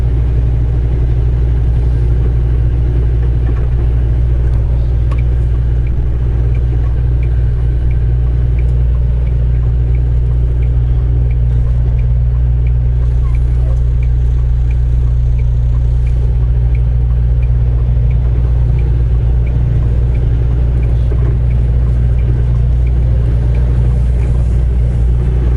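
Steady low rumble of a Kenworth T680 semi truck engine while driving, loud and constant throughout with a deep droning hum and faint road noise above it.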